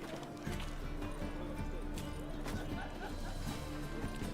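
Roach, the horse in the video game Witcher III, moves with a regular clip-clop of hooves over a dense, steady game ambience, moderately close and fairly quiet overall.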